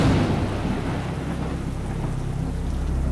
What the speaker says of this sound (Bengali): বাইরে বৃষ্টির শব্দ, ঝড়ের শব্দ, বজ্রপাতের ভয়ঙ্কর শব্দ।